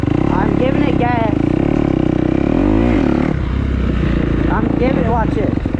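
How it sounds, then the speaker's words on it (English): A motorcycle engine revving hard as the clutch is dropped to lift a wheelie, a loud close buzzing roar that rises and falls, with someone talking over it throughout. "when I give it gas, I'm dropping that clutch"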